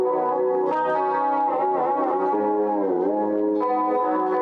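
Clean electric guitar through an Amplitube 2 amp-simulator preset with light reverb, sustained ringing chords and notes shifting over a few seconds with a smooth, slightly shimmering tone, played alone.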